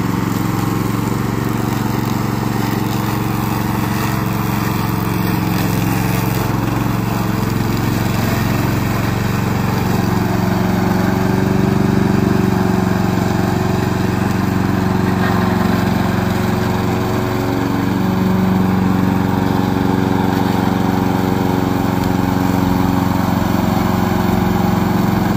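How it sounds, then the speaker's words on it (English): A small remote control lawn mower engine drones steadily and loudly throughout, with a constant motor hum and slight fluctuations in pitch, no voices. "Today I'm going to introduce our remote control lawnmower."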